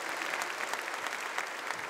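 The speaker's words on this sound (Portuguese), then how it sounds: "Uma salva de palmas." A congregation at a Sunday Mass in church applauds, dense sustained clapping from many hands filling the space for a moment, with no voice standing out.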